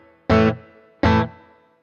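Two separate guitar strums played through a Fractal amp modeler's reverb block, with reverb blended into the clean, unaffected signal; each chord rings out loudly, then fades with a short, faint tail before the next one.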